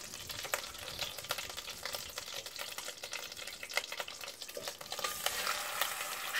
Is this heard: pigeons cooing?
no